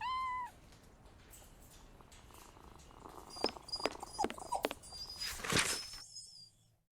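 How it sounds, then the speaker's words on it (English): An injured cat in a Sherlock Holmes video game, meowing once at the start, followed by soft patter and a run of high, thin squeaky cries before it fades to silence. "This cat seems to be in a sorry state."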